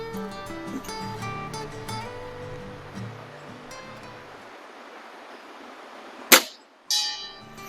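An air rifle pellet strikes a distant metal target, a single sharp faint ring, followed by a second brief metallic burst, after low background noise fades out.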